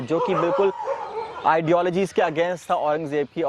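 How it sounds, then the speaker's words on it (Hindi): Many dogs bark and yelp in the background, overlapping in rapid bursts beneath someone talking close to the microphone. "और कुत्ते बहुत सारे भौंक रहे हैं."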